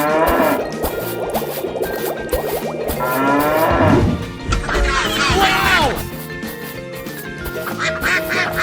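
Cartoon cow mooing among other animal calls, including duck-like quacks, over a busy background of music and effects; voices speak briefly alongside.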